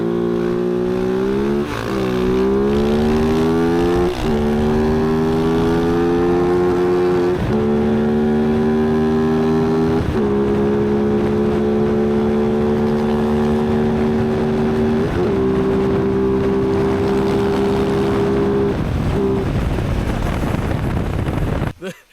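A KOVE 450 Rally and a KTM 450 XCF-W dirt bike race off together, engines revving hard and shifting up through the gears in a loud, close, steady roar with wind buffeting the microphone.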